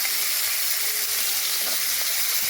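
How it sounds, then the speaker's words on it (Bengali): Fish sizzles loudly in hot oil in a wok, a dense, steady hiss that stays close and continuous throughout. "কড়াটায় হালকা তেল দিয়ে নিলাম, তেলটা গরম হলে মাছ ভাজবো"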